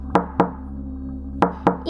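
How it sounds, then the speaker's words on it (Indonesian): Knocks on the door of a house, coming from downstairs: a pair of crisp raps, a short gap, then another pair, distinct over a quiet low background hum. "Siapa itu yang ketok-ketok"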